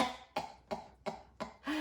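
A voice imitates coughing and sputtering with five quick, rhythmic coughs, evenly spaced and close, the last one trailing into a strained vocal sound.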